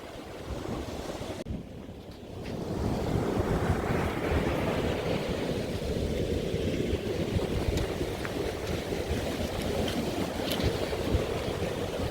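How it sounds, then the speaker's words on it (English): Rough ocean surf rolls in at a beach near pillars, a loud, continuous roar of breaking waves mixed with heavy wind buffeting the microphone, with no voices. "The waves are a little rough, so we will have to come back."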